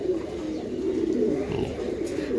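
Giribaz pigeons, a high-flying breed, coo in a low continuous murmur close by, with a lighter chirp or two over the steady burbling.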